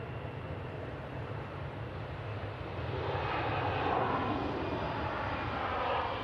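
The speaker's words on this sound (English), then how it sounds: "Right, EasyJet A320-200 off to Faro." An EasyJet Airbus A320-200 jet at Manchester Airport roars steadily with a broad, rumbling engine noise that swells louder in the second half, continuous and fairly close, with no talking.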